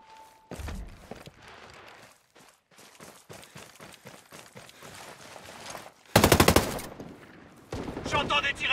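Enemy gunfire in the Ghost War mode of a video game, with rapid machine-gun bursts, a single early shot, footsteps and thuds, ending in loud, sustained automatic fire up close.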